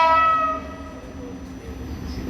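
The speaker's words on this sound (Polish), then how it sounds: "Jeżdża pociąg Intercity Hetman do Lublina Głównego i Hlubieszowa Miasto." A PKP Intercity Hetman train at Opole Główne station sounds a loud horn blast at the start, then its rumble rolls on steadily, close and with no talk.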